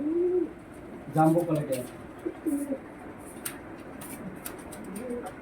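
Pigeons at a pigeon sale coo low and softly near the start, with a few faint calls after, while people talk over them.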